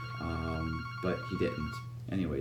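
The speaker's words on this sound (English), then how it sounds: "that's my phone ringing" A phone rings faintly beneath someone speaking in an English commentary about Theranos: a steady electronic ringtone runs in the background the whole time, mostly masked by his voice.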